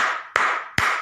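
Three sharp hand claps land at roughly even intervals, loud and close, each leaving a short ringing decay, played as a counting game about ones and tens.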